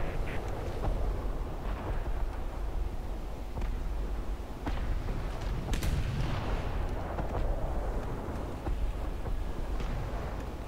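Anti-aircraft guns fire steadily in a naval battle game, dense repeated thumps and booms layered over a constant rumbling din, loud and close with no talk.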